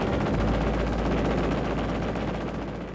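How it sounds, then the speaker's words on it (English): Six Browning M3 .50 caliber machine guns on an F-86 Sabre jet fire in a loud, sustained, rapid burst of rounds. The gunfire stays dense and continuous for about three seconds and eases off slightly at the end. "The F-86 Sabre was armed with 6 50 caliber Browning M3 machine guns."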